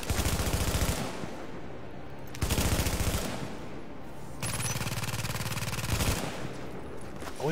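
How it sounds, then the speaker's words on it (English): Submachine gun fire in the video game The Division, several long, rapid automatic bursts separated by short gaps, loud and close with no talking over them. "Bring out my submachine gun just in case I need to shoot something."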